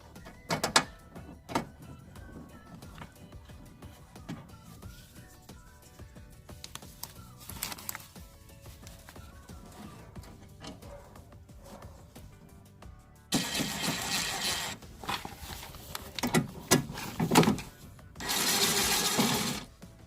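The power window regulator in a BMW G20 whirs as a motor drives the window, with intermittent mechanical clicks and handling noises, then louder sustained motor runs near the end, heard close up.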